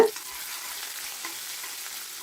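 Crushed garlic cloves and curry leaves frying in a pan, giving a steady, close hiss of sizzling oil with a brief louder crackle at the start, no voices.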